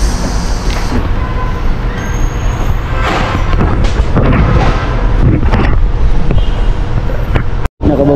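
An MRT train on EDSA in Manila rolls along with a continuous rumbling drone, clanks and rattles rising and falling close by, and a sudden brief dropout near the end.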